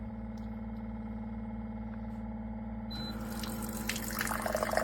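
A steady low machine hum from a SimPure Y7P-BW countertop reverse osmosis filter, then water starts pouring and splashing, growing louder as it fills a glass close by.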